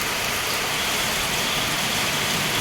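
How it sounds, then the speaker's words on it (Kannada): Steady, dense hiss of heavy rain pours down without pause, loud and even throughout. "ಸಡನ್ನಾಗಿ ಮಳೆ ಬರ್ತಾ ಇದೆ ನೋಡಿ"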